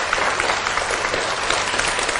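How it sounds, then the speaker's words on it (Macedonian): A school audience applauds young reciters at a Goce Delčev primary school event, dense close clapping of many hands, loud and steady for the whole moment. "Најсилен аплауз уште еден охрабрувачки за нашите први"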